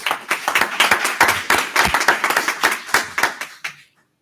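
Audience at a school board candidate forum applauding, a steady burst of many hands clapping nearby that tapers off and stops into silence.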